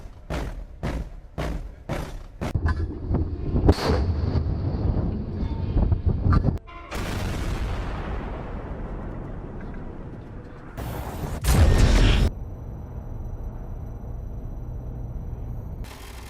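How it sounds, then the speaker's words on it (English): Weapon fire from the space combat game Space Engineers 2: a rapid volley of sharp booming shots, then heavy blasts with long rumbling decays and a loud sustained burst, all without voices. "These are the weapon sounds that you should be hearing when you fire your guns in Space Engineers 2"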